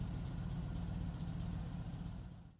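Indian Chief motorcycle engine idling, a steady low rumbling throb held close and even, then fading out near the end, no voices.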